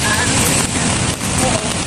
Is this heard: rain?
yes